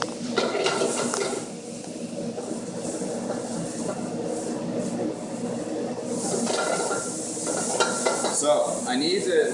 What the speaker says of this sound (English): I need to at least saute this until it's cooked